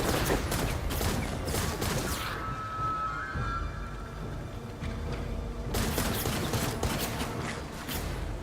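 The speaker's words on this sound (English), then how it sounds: "Oh, it loads automatically. Okay. It's like a infinite machine gun." Rapid automatic machine gun fire in a video game, a dense rattling stream of shots that runs loud for a few seconds, eases, then returns strongly near the end.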